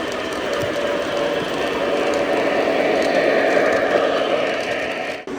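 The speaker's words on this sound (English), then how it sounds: "It's kind of odd to see a steam train pulling a modern passenger train." A steam locomotive pulling a modern passenger train rumbles past steadily at Steamtown, Scranton, Pennsylvania, a broad continuous roar with faint rhythmic clatter that swells and then cuts off abruptly at the end.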